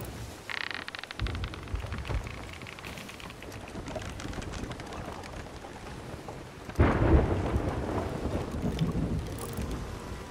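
A thunderstorm near a shipwreck in the pirate game Sea of Thieves: steady rain hiss with low rumbling thunder, a heavy roll swelling loudly partway through and lingering under the downpour.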